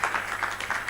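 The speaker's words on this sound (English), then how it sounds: "You can give him a clap as he sits down" Applause from an audience at an AI research colloquium in Kigali, a steady wash of many hands clapping at moderate distance, sustained through the whole moment without speech.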